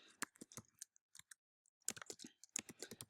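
Someone types on a computer keyboard, close and fairly quiet, with bursts of rapid key clicks separated by a pause of about half a second.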